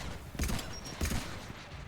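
Gunfire erupts during a firefight in Mass Effect on Insanity difficulty, with two short loud bursts of shots separated by a brief pause over a steady game background rumble.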